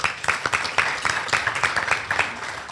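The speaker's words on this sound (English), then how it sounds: "Please give him another round of applause." Steady rhythmic clapping from a luncheon club audience in a meeting room, fairly close and continuous throughout with no talk over it.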